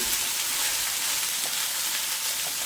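Half a kilo of okra fries in a pan, giving a soft, even hiss of sizzling oil that stays steady and fairly quiet throughout, close by with no voices.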